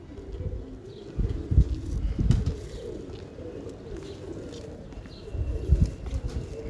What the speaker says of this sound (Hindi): बहुत शानदार कबूतर है